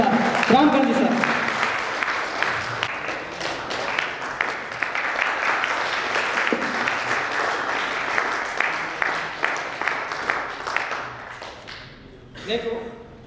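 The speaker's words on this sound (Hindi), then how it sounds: "रामकरण जी एक बार स्टेज पे आए आपकी जोरदार तालियों के साथ।" Loud, sustained applause from an audience as a guest comes up on stage at a company first-anniversary event, steady clapping lasting throughout and tapering off near the end, with a voice briefly heard.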